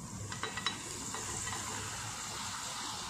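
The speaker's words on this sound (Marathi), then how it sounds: "अशा प्रकारे आपण सगळ्याच पुऱ्या तळून घेणार आहोत" Masala puris made from maida deep fry in hot oil, a dense, even sizzle and hiss that runs throughout, with a few light clinks of a utensil near the start, close and without speech.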